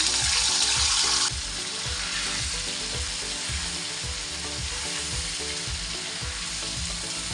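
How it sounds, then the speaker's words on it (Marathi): Paneer pieces fry in a pan with a steady, loud sizzle that carries on throughout with no pause, and faint stirring and scraping sounds come through beneath it. "आता आपलं पनीर थोडंसं फ्राय झालंय"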